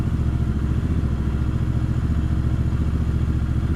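Royal Enfield Interceptor 650 engine turning over with a steady, even mechanical chugging and clatter that never catches, continuous and close for a few seconds without any voices.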